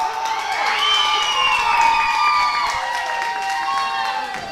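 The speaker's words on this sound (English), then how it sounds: "Crowd firmly behind Cameron Keith's brother Azriel and Aaron Dallas." Wrestling crowd at a ProSouth Wrestling event cheering loudly, with high shouts and whoops rising and falling over a sustained roar of voices.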